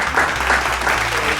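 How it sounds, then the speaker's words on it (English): Audience applause for Benny Goodman at a jazz event, a short dense wash of clapping from a crowd with a low hum beneath, steady and fairly loud. "Could we get a big round of applause for Benny Goodman?"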